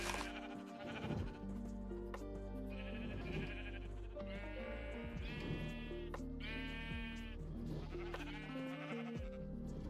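Minecraft sheep bleat over and over through a busy game soundscape, their wavering calls overlapping at a steady moderate level for about ten seconds.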